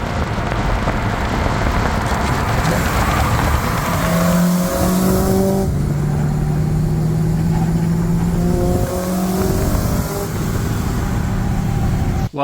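A Nissan 240SX drift car at a drift event, its engine roaring loud and close with revving, tire squeal and shifting pitch through a sustained run.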